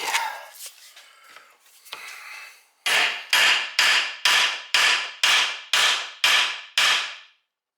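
A hammer strikes a 1968 Pontiac GTO front end ball joint during teardown, about ten sharp, loud metallic blows in an even rhythm after some quieter clanking and rustling at the start.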